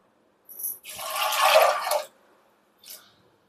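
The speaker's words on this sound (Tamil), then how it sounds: "கடலை முங்குற அளவுக்கு தண்ணி ஊற்றிக்கணுங்க." A short splash of water poured over chickpeas in a pressure cooker, preceded by a brief clink and followed by a faint drip, with no talking.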